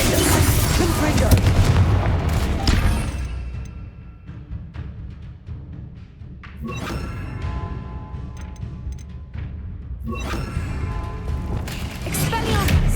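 Loud booming fire-blast spell bursts in the video game Hogwarts Legacy, a dense roaring blast followed by two further sharp bursts over quieter battle ambience.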